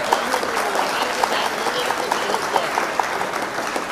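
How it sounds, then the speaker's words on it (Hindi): Steady applause from an audience at a mushaira poetry gathering and honour ceremony, a dense continuous patter of many hands clapping at an even level throughout. "श्री मोहम्मद इरशाद साहब के लिए तालियां बजाएं"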